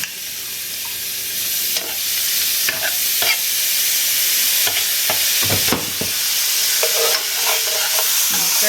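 Minced garlic sizzles in hot butter in a skillet used for steaks, a bright continuous hiss punctuated by utensil scrapes and clicks as it is stirred, close and loud.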